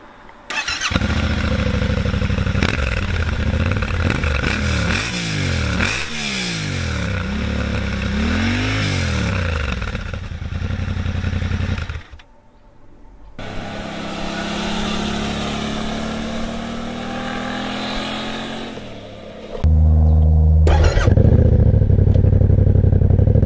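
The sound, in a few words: Yamaha Tenere 700 motorcycle engine running and revving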